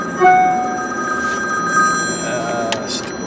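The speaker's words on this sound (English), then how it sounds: "Okay, had to answer phone." A telephone rings in a few short, high tones over steady background hum, with a murmur of talk underneath.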